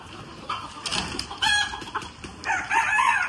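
Chickens and roosters, including white ones, cluck close by in quick, uneven bursts while following someone for feed, with no talking.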